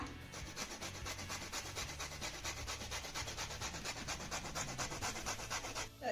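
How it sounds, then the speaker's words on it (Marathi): Orange peel rubbed against a grater, only the orange zest taken, a fast, even run of close rasping strokes that continues steadily for several seconds with no voices. "हा नारंगी भाग आहे ना तेवढाच आपल्याला किसून घ्यायचा आहे"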